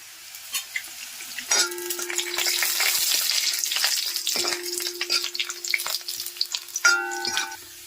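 Loud, busy sizzling of chilies frying in hot oil, crackling continuously, with a few sharp metallic clinks and tones from the pan and utensils.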